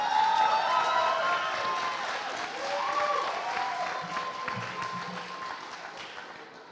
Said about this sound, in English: Can we give all of the presenting Garfield Gators another round of applause?